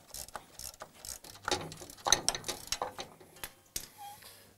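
Manual ratchet drive socket clicking in short bursts while turning bolts on Jeep suspension during a bump stop upgrade, a rapid pawl ratcheting heard up close with brief pauses between strokes and no talking.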